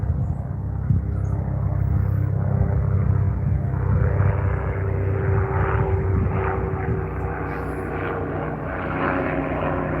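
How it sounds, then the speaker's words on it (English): Helicopter passing overhead outdoors, a steady droning engine rumble with a low hum that swells slightly in the middle and then eases off, heard alone without talk. "here comes a helicopter"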